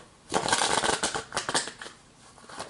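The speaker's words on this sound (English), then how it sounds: "cards don't want to shuffle" A close, brisk riffle of cards, a dense papery rustle that fades into a few softer flicks, with no talking.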